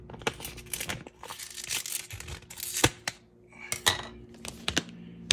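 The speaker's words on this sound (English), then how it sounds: "let's cut one of these open and see what's inside" A Coca-Cola Freestyle cartridge is cut open up close, with irregular crinkling, tearing and sharp plastic clicks and snaps scattered across the quiet.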